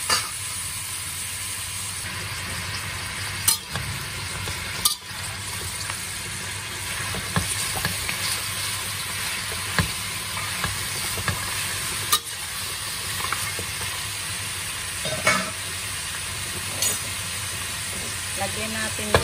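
Pork leg sautéed in a pan, steady loud sizzling and frying with occasional clanks and scrapes of a utensil stirring the meat, continuing throughout.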